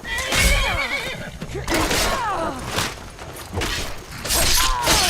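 A horse in a fantasy video game neighs and whinnies loudly several times in quick bursts, mixed with clattering hooves and other in-game noise.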